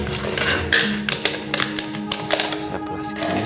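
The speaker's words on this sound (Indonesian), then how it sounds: "Ntar saya gunting dulu," Scissors snipping through a discarded plastic bottle, giving a run of sharp, close cutting clicks and crunches spaced irregularly over a few seconds, with no talk.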